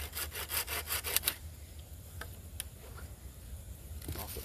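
Hand saw cutting wood in short rhythmic back-and-forth rasping strokes up close for about a second and a half, then a few scattered light knocks and handling sounds in a quiet room.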